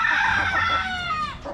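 Aseel and other chicken breeds on a farm: a loud, close rooster crow rises and falls over about a second, with clucking fowl around it and no talk.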